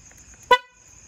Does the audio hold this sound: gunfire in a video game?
no